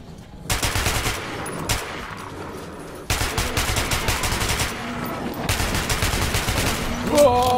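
Rapid gunfire in the video game Metro 2033, sustained close automatic bursts in two main volleys with short single shots between, loud and dense.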